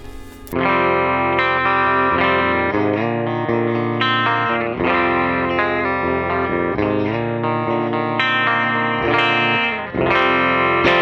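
A distorted electric guitar plays chords and riffs continuously through the amp cabinet simulation of a GE250 amp modeler, loud and sustained with a chorus-like shimmer.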